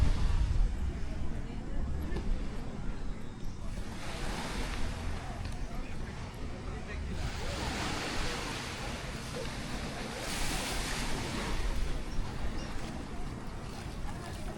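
Surf rolls steadily onto a Thai beach, a continuous broadband wash with gentle swells, mixed with wind buffeting the microphone throughout.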